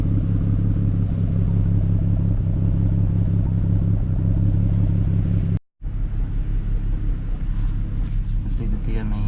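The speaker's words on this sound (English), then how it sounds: "it's misfiring basically. Then there's the idle up, trying to stabilise things" A BMW N54 engine in a 335i E92 idles with an ignition misfire, giving a loud, close, steady rough rumble that cuts out briefly partway through before resuming.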